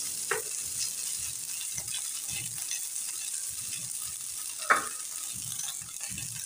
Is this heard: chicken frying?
yes